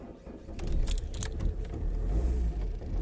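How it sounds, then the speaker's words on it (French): A car's engine tries and fails to start: low, uneven cranking rumble with a few sharp clicks and rattles, close and moderately loud, with no talking. "la bagnole ne démarre pas"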